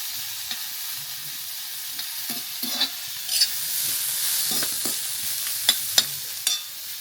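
Grated coconut roasts in oil in a pan for Malvani kalva masala, with a steady close sizzle and occasional scraping stirs throughout.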